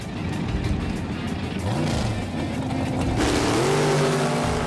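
Drag race cars launch off the line at a winter nationals event, a loud sustained engine roar with rising revving pitch sweeps as they accelerate away.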